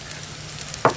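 Spices sizzle in hot oil as a tempering goes into a vegetable dish of sprouted fenugreek, turmeric and aloe vera, with a soft steady frying hiss and a sudden louder crackling burst near the end.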